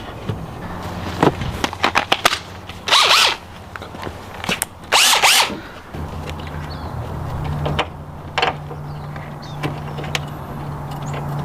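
Power drill boring into a car wide body kit on an RX7, several loud bursts of whirring and grinding separated by pauses, with steady motor hum and clattering handling noises between.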